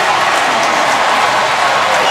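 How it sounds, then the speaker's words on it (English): A huge indoor crowd roars at an NFL game in the Superdome, a dense, loud, unbroken wall of cheering and applause with a commentator's voice faintly over it. "The Superdome crowd, as loud as they have been all day."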